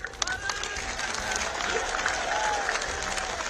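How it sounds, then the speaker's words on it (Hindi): Crowd clapping at an outdoor election rally in Unchahar, Uttar Pradesh, a dense, rapid patter of many hands applauding at once, sustained and fairly close, with faint voices and cheers mixed in. "एक बार हाथ उठाकर सभी लोग ताली बजा दीजिए"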